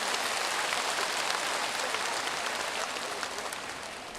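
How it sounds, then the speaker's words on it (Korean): A large lecture-hall audience at a Catholic gathering applauds in encouragement, a dense, even wash of clapping that stays loud and steady before tapering slightly. "이분들에게 위로의 박수, 격려의 박수 한번 쳐주세요."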